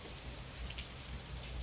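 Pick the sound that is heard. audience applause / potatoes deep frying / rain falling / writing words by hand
rain falling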